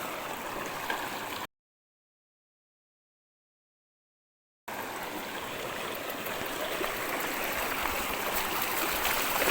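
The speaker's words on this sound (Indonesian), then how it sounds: "Sungai pertama, ayo ayo." A river stream crossed on a mountain bike trek, flowing water rushing and trickling loudly and close, with a brief gap of silence in the middle and no speech.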